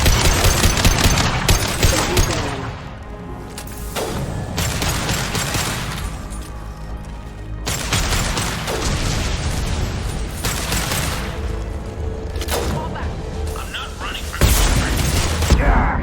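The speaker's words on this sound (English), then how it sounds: "Firing a high-impact shot!" High-impact gunshots in Mass Effect 2, loud booming shots and bursts of automatic fire scattered through sustained combat noise, with in-game voices talking between the blasts.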